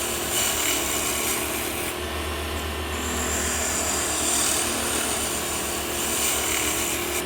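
A wooden Christmas tree ornament being smoothed on a lathe to remove tool marks gives a steady, close, continuous rubbing rasp of tool against spinning wood, with a constant low motor hum underneath and no talking.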